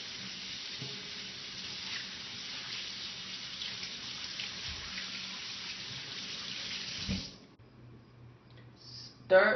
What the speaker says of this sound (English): The first step will be washing hands.